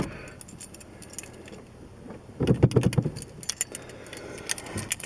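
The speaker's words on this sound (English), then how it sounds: "Get the keys out of the, I'll find the keys here." Car keys jangle in a garage during exhaust work on a 2005 Scion xB, a quiet clink at first that swells into a close, busy metallic rattle midway, then scattered lighter jingles.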